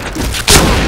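A grenade detonates in the Project Blackout shooter game, a single loud broadband blast that jumps out of a quieter game backdrop and rumbles on to the end.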